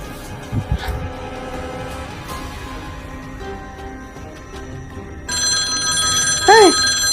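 A landline telephone starts ringing indoors, its bright repeating trill cutting in loudly late on over a murky background of room noise and scattered indistinct voices.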